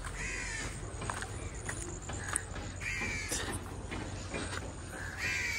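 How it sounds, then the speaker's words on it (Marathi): Crows caw repeatedly during a walk through jungle greenery, the harsh calls rising in several bursts over a steady outdoor background hum. "बिचारे कावळे तर सगळीकडेच असतात"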